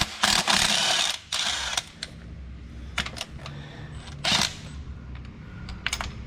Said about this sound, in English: Switching over to a 5/8 deep socket is what we use to remove the spark plugs.